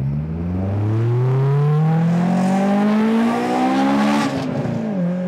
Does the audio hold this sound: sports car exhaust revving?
yes